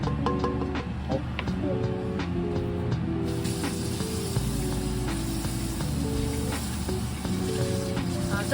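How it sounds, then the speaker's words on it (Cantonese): Two beef steaks sizzle steadily in a hot frying pan in a Hong Kong-style kitchen, a continuous close crackle with voices heard faintly over it. "轉頭啊，再煎埋嗰兩塊牛扒。"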